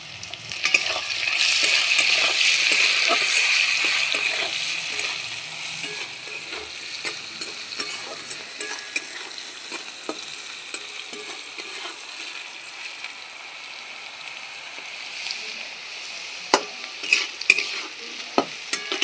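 Potatoes stirred and frying in hot oil for a flattened rice pulao, a loud steady sizzle for the first few seconds that settles into a quieter crackle broken by sharp scrapes and clinks of the spatula against the pan.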